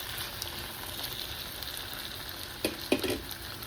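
Eggplant and chana dal curry is stirred in a pan, frying with a steady sizzle, and a few sharp scrapes and clatters of the spoon come near the end.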